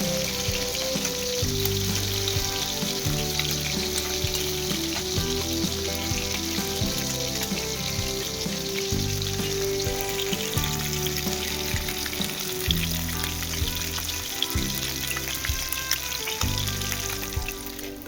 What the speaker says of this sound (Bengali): এরপর মাছের সামনের দিকটা ভাজা হয়ে গেলে উল্টো দিকটা এভাবে ঘুরিয়ে ভেজে নেব।